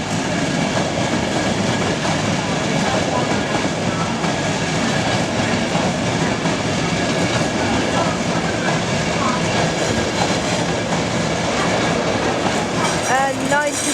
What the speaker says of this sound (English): leaving York Station now is an LNER HST 43